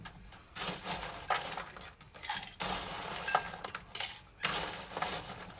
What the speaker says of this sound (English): Dropping ice everywhere again.